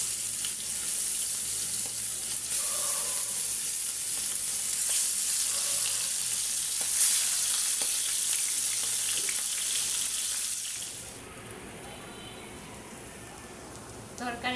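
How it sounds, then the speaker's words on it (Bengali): Small chapila and jatka fish fry in hot oil in a kadai, a steady broad sizzle that holds for about eleven seconds before dropping to a quieter hiss near the end. "তরকারি রান্না করার জন্য আমি মাছগুলো ভালো করে আগে একটু ভাজে নিই।"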